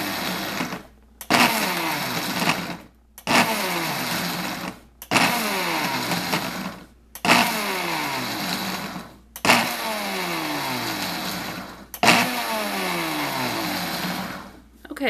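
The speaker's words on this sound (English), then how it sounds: "when you put them in there, you don't want to just run the mixer continuously." A kitchen mixer pulses dried tomatoes down to powder, with seven short loud bursts of whirring separated by brief silences, each burst rising and falling in pitch as the chunks break up.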